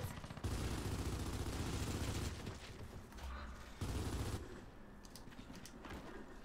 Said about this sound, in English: we're just throwing down heavy Lancer fire